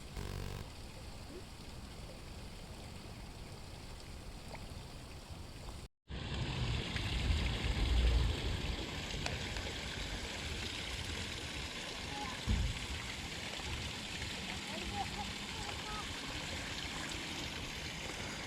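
Water pouring over a fishing-pond spillway, a steady close rushing wash that continues without a break through the whole stretch, with a brief dropout and a few small knocks but no talk.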